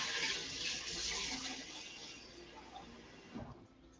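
Whisk rinsed under a running kitchen tap, a close hiss of flowing water and splashing that tapers off as the tap is shut near the end.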